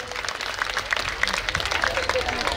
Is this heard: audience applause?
yes